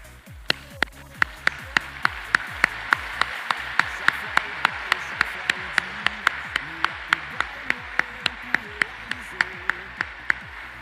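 An audience claps steadily in the open air, sharp individual hand claps ringing out at an even pace, fairly loud and close, over a faint murmur of crowd noise.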